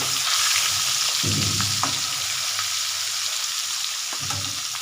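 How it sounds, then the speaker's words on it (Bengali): Fish frying in hot oil in a pan, with a continuous close, loud sizzle and crackle and a couple of soft utensil knocks, with no voices. "বাকি যে দুটো মাছ ওই মাছ দুটো ভাজছি"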